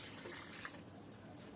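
Water poured onto steeped hibiscus leaves makes a soft, faint trickle and splash, a quiet continuous stream with a few brief brighter spatters.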